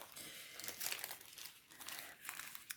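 A diamond painting kit package is opened, giving soft plastic crinkling and rustling close by in uneven bursts, quiet overall.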